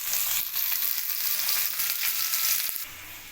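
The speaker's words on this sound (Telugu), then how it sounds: "ఆయిల్ పోసుకొని ఉల్లిపాయ ముక్కలు బ్రౌన్ కలర్ వచ్చే వరకు ఫ్రై చేసుకోవాలి." Onion pieces frying in oil in a bowl while preparing egg pulusu, giving a steady, fairly loud broadband sizzle that holds evenly throughout, with a soft stir or scrape near the end and no talking.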